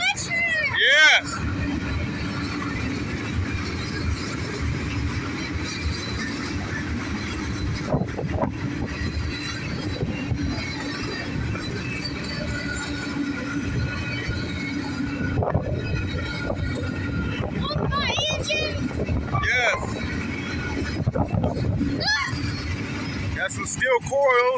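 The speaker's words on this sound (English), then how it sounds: "Check out that switcher." A northbound CSX mixed manifest freight train with a switcher locomotive and steel coil cars passes by, a steady rumble and wheel clatter running throughout while people talk and cheer excitedly over it.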